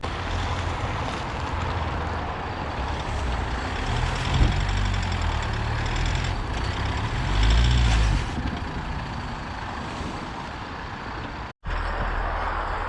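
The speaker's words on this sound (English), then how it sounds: "that flywheel, my god, it's loud." A high-mileage Japanese car with 316,000 miles and a worn flywheel runs on the move, giving a loud, steady mechanical drone and rattle throughout, with a brief dropout near the end.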